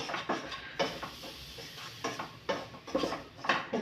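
A spoon scrapes and clinks against a pan as anchovies are stirred with chili, turmeric and pepper powder, in irregular knocks and scrapes over a soft background sizzle.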